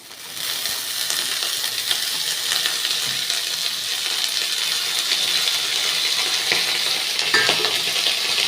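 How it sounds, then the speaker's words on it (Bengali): Chopped egg and onion frying in a pan with turmeric and salt, a steady close sizzle with faint stirring scrapes running the whole way, no voices. "ডিমটা অল্প ভেজে নিব একটু হলুদ লবণ দিয়ে"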